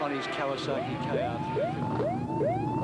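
A loud siren wails in repeating rising sweeps, close and continuous, while someone talks over it, at the Sandown motor racing circuit.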